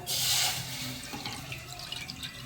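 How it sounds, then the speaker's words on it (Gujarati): About two glasses of water are poured into a kadai to boil spices, with a brief gushing splash at the start that gives way to softer trickles and drips. "તેમાં બે ગ્લાસ જેટલું પાણી નાખીશું"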